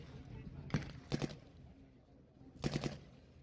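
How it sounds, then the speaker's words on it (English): Tanks and guns open fire during a battle reenactment, with short clustered bursts of distant gunfire in three groups separated by quieter stretches. "Tanks are opening up."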